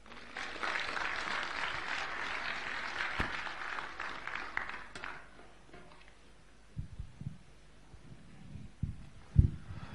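Conference audience applause, a dense wash of clapping for several seconds that fades out, followed by a few scattered thumps and handling knocks.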